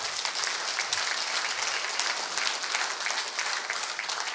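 Sustained, dense applause from an audience at a Korean academic conference opening ceremony, steady and fairly loud throughout with no voices on top.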